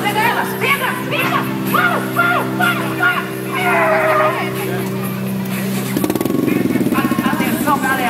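Motorcycle engine running at an outdoor stunt riding show, a steady loud drone with a rougher revving surge near the end, under excited voices and crowd noise.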